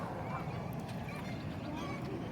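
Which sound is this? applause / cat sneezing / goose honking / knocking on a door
goose honking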